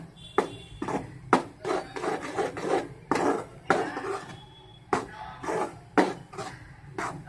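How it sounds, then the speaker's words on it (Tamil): Thick adhirasam dough being stirred by hand in a vessel for Vinayagar Chaturthi, giving close, repeated scraping and knocking strokes in an uneven rhythm, with no talk. "நல்லா வந்து கிளறி விட்டுக்கலாம்."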